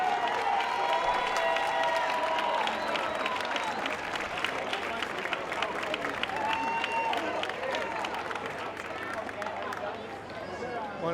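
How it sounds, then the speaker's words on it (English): Crowd applause and scattered cheering ring out at an outdoor street parade, a steady wash of clapping held at even loudness for several seconds with voices mixed throughout. "Hopefully we can encourage them with large rounds of applause for the effort they've made"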